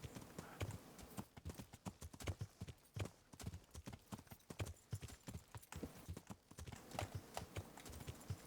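Horse hooves clip-clop steadily along a dark path in the medieval game Kingdom Come: Deliverance, a brisk rhythmic trot of sharp, close knocks that runs throughout.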